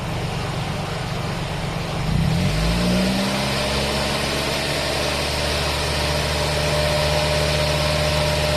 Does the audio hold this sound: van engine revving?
yes